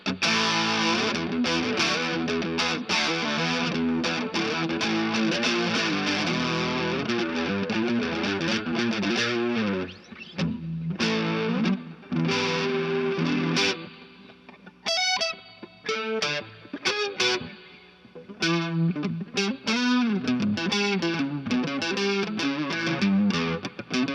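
Electric guitar played through distortion and effects pedals, thick and buzzing, with strummed chords and short pauses between phrases, loud and up close.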